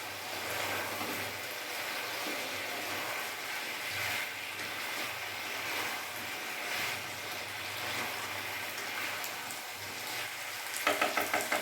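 Pumpkin frying with spices, giving a continuous moderate sizzle with soft rhythmic stirring scrapes and a few quick knocks at the end; nobody speaks.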